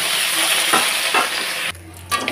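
Fish frying in a pan of oil for a taro and fish recipe, a dense close sizzle with a few louder crackles that cuts off sharply near the end.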